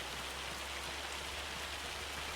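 Steady rain pattering down in Farming Simulator 25, a continuous even hiss of drops alone with no voices, faint and unbroken throughout.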